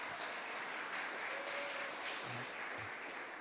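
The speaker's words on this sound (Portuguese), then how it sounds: "se você crê nisso, aplauda Jesus bem alto" A church congregation claps and applauds, a faint, even wash of many hands with no break for the whole few seconds.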